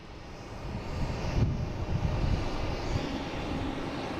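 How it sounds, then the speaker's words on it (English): A JetBlue Airbus A220 arriving from Fort Lauderdale at Boston Logan International Airport makes a distant engine rumble that swells slightly and then holds steady. "we have a JetBlue coming in from Fort Lauderdale, an A220"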